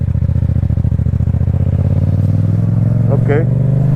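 A 2016 Yamaha MT-125 motorcycle with about 20k miles pulls away, its steady engine drone rising in pitch as it accelerates nearby, with an MT-07 idling alongside.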